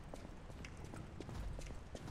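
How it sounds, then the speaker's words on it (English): Heavy stomping footsteps in the game Lies of P thud at a steady rhythm, fairly faint and somewhat distant, with no talk over them. "Who's stomping around down here?"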